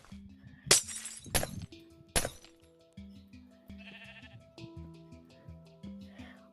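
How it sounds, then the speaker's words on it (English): Sheep in the Minecraft video game bleat several times in a row amid other blocky game sounds, with a few sharp glass-like shattering bursts near the start. Nobody speaks. "I hear you, sheep."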